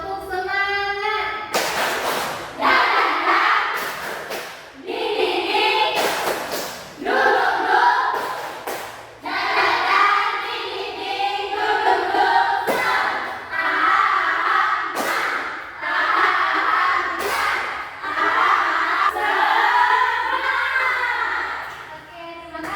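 A classroom of schoolchildren chanting and clapping in a rhythmic spirit-clap routine, loud repeated bursts of voices and hand claps separated by short sharp thuds and brief pauses.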